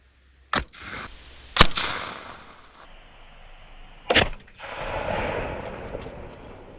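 A homemade redneck bazooka firing a golf ball, with several sharp, loud bangs followed by short hissing and rushing noise outdoors.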